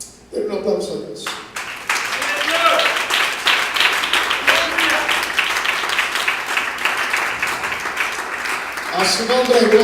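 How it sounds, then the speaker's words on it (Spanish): A church congregation bursts into sustained, fairly close applause that swells and holds steady for several seconds, with voices speaking briefly at the start and again as it fades. "Denle un aplauso a Dios."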